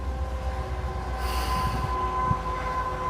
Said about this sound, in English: now they're pulling back into the side track yet again